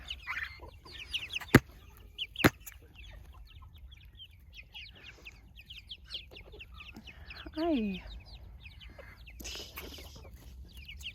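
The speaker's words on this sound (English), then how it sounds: "These are some of our chickens." Soft hens cluck continuously nearby, with one louder rising squawk partway through. A person briefly says a greeting, and a couple of sharp clicks sound early on.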